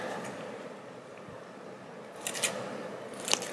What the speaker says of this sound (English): I have to cut each one individually, which is a pain, but that is okay.